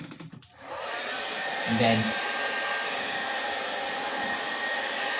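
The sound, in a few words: hair blower drying setting spray on face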